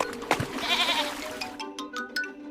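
A goat on a farm gives a wavering bleat up close, followed by scattered clicks and light handling noises against a faint background.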